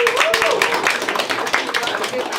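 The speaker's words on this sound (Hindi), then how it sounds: "तालियां।" An audience at a live comedy show claps in a brief, moderately loud burst of separate hand claps, with voices talking over it.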